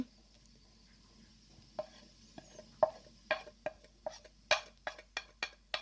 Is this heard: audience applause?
no